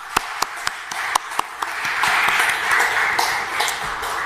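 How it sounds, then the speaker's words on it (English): Applause from a meetup audience at a tech event, opening with a few isolated sharp claps and then swelling into a fuller, steady round of clapping that carries on to the end. "with a huge round of applause"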